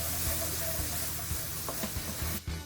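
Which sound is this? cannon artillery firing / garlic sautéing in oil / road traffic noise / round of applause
garlic sautéing in oil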